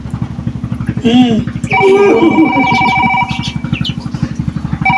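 A telephone rings over a loud, rhythmically pulsing engine idle, several electronic tone bursts sounding close and clear in a comedy drama scene, with voices briefly present.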